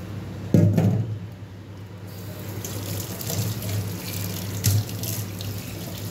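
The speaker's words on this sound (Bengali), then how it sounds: "একটু হাতটা ধুয়ে নিই" Hands being washed under a running kitchen tap after handling raw chicken, a steady close splash of water with a few louder gushes and small knocks, no talk.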